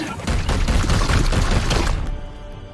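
A rapid burst of loud gunfire in the video game Warhammer 40,000: Chaos Gate – Daemonhunters crackles for about two seconds, then cuts off abruptly into quiet.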